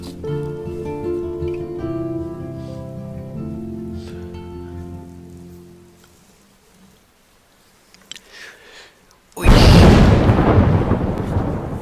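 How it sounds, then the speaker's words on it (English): Thunderstorm in the video game Life is Strange: a loud burst of thunder and heavy rain bursts in near the end, after a stretch of tonal game music that fades to near silence. "Okay, so there is a storm happening."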